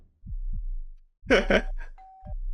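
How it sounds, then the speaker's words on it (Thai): A bell rings behind the player in Roblox Dangerous Night, a single short ding that follows a louder chiming burst and heavy thumping heartbeat pulses. "ทำไมกระดิ่งเสียงดังมาจากข้างหลังอะกระดิ่งอะ"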